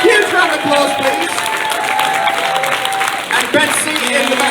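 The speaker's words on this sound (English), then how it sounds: "Huge round of applause, please." An audience applauds, with loud, dense clapping and some crowd noise. Voices and cheers mix in and the applause continues throughout.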